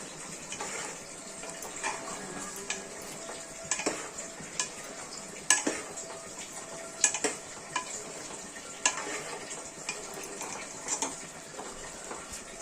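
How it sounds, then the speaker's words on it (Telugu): A spoon stirs keema and drumstick curry with chilli powder, salt and masala in a pan, Godavari style, a quiet soft sizzle broken by repeated scraping and clinking strokes at an irregular rhythm. "ఇప్పుడు మళ్ళీ అంతా కలిపేద్దాం"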